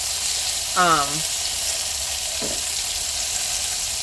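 Vegetables sautéing in butter give a steady, even sizzle throughout, with a short whistling tone and a brief faint clink partway through, close and moderately loud.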